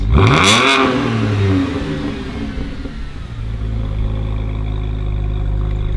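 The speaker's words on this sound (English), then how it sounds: "So Jack's gonna turn her over" A BMW M3/M4 engine cranks and fires with a loud rev, then settles into a deep, rumbling idle up close.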